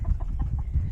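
Chickens cluck softly around a backyard coop, with short low clucks in quick succession close by and no talking.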